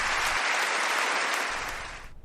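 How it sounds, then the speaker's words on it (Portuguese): A church congregation standing and applauding during a Bible study service, a dense wash of clapping that holds steady and then thins out and fades near the end. "toda a igreja possa os aplaudir"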